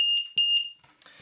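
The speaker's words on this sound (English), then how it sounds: "it's got an onboard beeper, as you could clearly hear there, but it's a warning buzzer as well" A small onboard beeper on a quadcopter LiPo battery voltage meter and alarm sounds as a warning buzzer. It gives three quick, piercing, close electronic beeps, then a faint click and silence.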